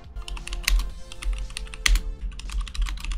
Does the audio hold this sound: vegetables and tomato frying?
no